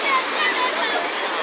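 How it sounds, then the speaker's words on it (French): Atlantic Ocean surf on the wild coast of Pointe-Noire, a steady broadband wash of breaking waves and foam, loud and continuous with no clear individual crashes. "Et donc voilà l'océan Atlantique, la mer, la côte sauvage de Pointe-Noire."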